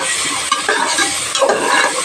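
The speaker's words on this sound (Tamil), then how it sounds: "இப்போ நம்ம இஞ்சி பூண்டு விழுது சேர்த்திக்கலாம்." A ground paste of ginger, garlic, cinnamon, cloves, fennel and star anise fries in a pan, giving a loud, close sizzle broken by quick stirring and scraping strokes.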